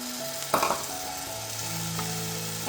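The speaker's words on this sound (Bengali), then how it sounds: "পেঁয়াজটা হালকা লাল রং ধরেছে তখন আমি দিলাম হচ্ছে দেখুন ছোট চামচের এক চামচে রসুন বাটা" Garlic paste goes into lightly browned onions in a hot pan, bringing an even, close sizzle with a brief clatter of stirring near the start.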